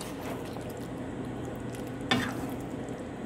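Steady oil sizzle of potatoes frying in a pan, continuous and close, with a brief sharp clatter of stirring about two-thirds of the way through.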